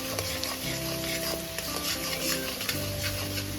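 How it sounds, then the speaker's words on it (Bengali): Chopped ginger, garlic and green chilli frying in oil over a low flame while being stirred, a dense close sizzle with soft scraping and clinks of a spoon against the pan. "এই তেলের মধ্যে দিয়ে দেবো আমি আদা কুচি দিয়ে দেবো রসুন কুচি দিয়ে দেবো কাঁচা লঙ্কা কুচি খুব সুন্দর করে লো ফ্লেমে ভেজে নেবো"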